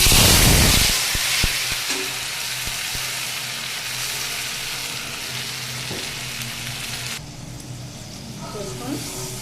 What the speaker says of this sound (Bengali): এবারে এই যে মশলাটা বেশ ভালোভাবে কষিয়ে নিতে হবে তেল ছাড়া অবধি